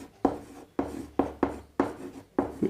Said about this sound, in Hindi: देखिए यहाँ पे अब लिखेंगे सेट का परिभाषा, डेफिनेशन।